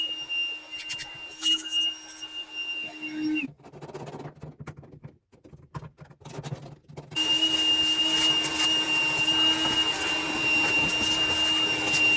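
A vacuum cleaner cleaning out a dryer vent whines with a steady high-pitched hum, cutting out briefly in the middle, then returning louder and continuous.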